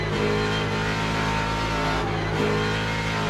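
A Ford Mustang GT3 V8 race car in Le Mans Ultimate, its engine revving loud and sustained with a rich, buzzing tone that barely dips, heard alone without talk.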